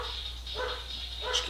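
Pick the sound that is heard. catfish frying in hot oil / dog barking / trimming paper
dog barking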